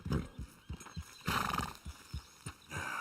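A horse in a video game whinnies in a loud, shaky burst near the middle, with snorts and hoof clops before and after, close by and without speech.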